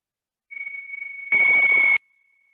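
A meditation timer rings with a steady, high, pure tone that starts softly, swells suddenly louder for about half a second, then cuts off abruptly into a faint lingering trace.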